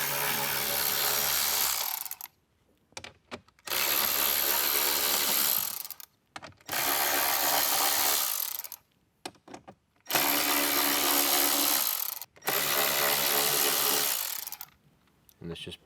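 A power screwdriver backs screws out of the dashboard screen bezel of a 2024 Jeep Wrangler, five loud whirring runs of about two seconds each separated by short quiet gaps.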